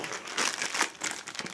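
Plastic packaging of a delivered parcel crinkles and rips as it is torn open by hand, several close, crisp rustling bursts in a quiet room with no talking.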